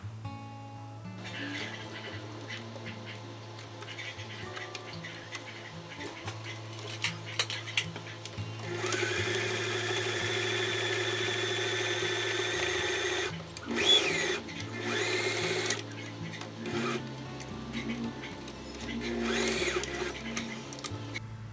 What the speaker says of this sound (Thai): เราก็จะนำส่วนนี้ไปเย็บค่ะ